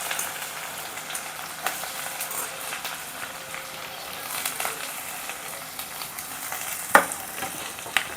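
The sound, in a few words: green chillies and onions frying in oil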